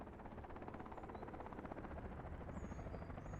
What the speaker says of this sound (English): I see the shadow of a helicopter moving around and I hear it